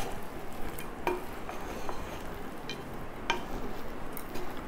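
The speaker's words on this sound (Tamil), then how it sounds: "இப்போ இதை லேசாக கலந்து விடலாம்." Pulao with chickpeas, cashews and ghee is gently stirred in a pan, giving a soft low sizzle with occasional spoon clinks against the metal and no talk.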